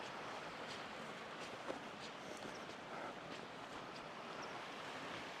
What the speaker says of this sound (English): got a little waterfall going on there.